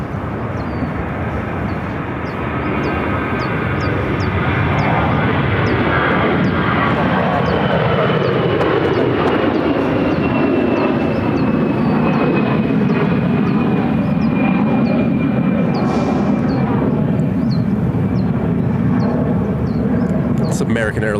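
An American Airlines Airbus A321-200 jet rolls down the runway at Phoenix airport with a loud, continuous engine roar and a whine that slowly falls in pitch, while a voice talks over it.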